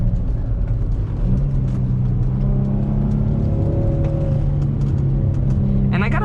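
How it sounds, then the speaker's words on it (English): An Infiniti G35 on its stock exhaust driven hard through a canyon, a steady mid-pitched engine drone and rumble that holds close and continuous with slight shifts in pitch. "I know that by the stock exhaust, it's not necessarily loud, but it sounds good, especially right now."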